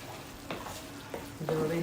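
Moong dal with coriander-cumin spice being stirred in a pan, giving soft sizzling with a few scraping strokes of the spoon, quiet and close.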